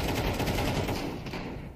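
Shotgun fire in a tactical shooter game, a dense, loud wash of gunfire blasts running continuously at close range with little break.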